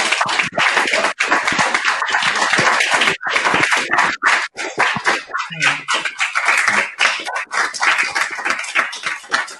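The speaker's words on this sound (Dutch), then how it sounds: "En dan wil ik u nu uitnodigen om een echt applaus te geven." Audience applause at the close of a PhD ceremony, with dense, sustained clapping from a large crowd at full strength throughout, loud and steady with only brief dips.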